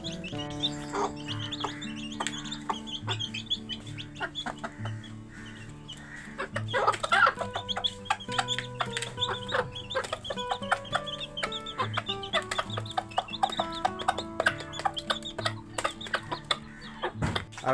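Chickens cluck busily while eating feed, a close, continuous chorus of short clucks and calls that grows livelier partway through; no human voices.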